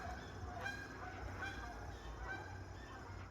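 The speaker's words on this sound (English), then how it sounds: "we have a flight of geese going over" A flight of geese passing overhead near a red oak tree cutting site, their honks faint and distant, repeating in a loose, irregular series over a quiet outdoor background.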